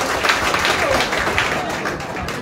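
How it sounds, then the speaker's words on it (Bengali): Applause at a Jaker Party district council meeting in Joypurhat ahead of the 2024 parliamentary election: a dense, steady patter of many hands clapping throughout, with crowd murmur underneath. "করতালি"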